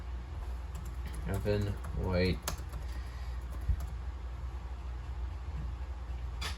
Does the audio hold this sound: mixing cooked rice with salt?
no